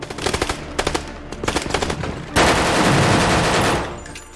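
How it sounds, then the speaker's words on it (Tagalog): Intense gunfire in a movie firefight between a SWAT team and terrorists in Iraq: short machine-gun bursts rattle for about two seconds, then give way to a loud, dense, continuous barrage of automatic fire that fades slightly at the end. "Nagkaroon ng matinding barilan sa pagitan ng mga SWAT at ng mga terorista."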